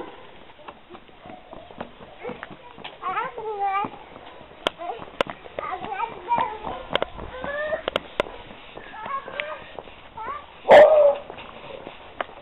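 A dog barks amid people chatting, with scattered short yaps and one loud, close bark near the end.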